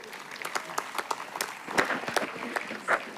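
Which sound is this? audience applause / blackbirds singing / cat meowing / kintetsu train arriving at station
audience applause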